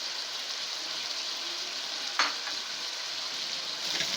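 Onions frying in a pan with red chilli, salt, coriander powder, cumin powder and turmeric give a steady close sizzle, with a brief stirring scrape partway through.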